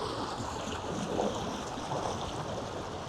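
A BYD car drives through water about a metre deep, steering as it goes, giving a steady, muffled churning and sloshing wash with faint swells and no voices.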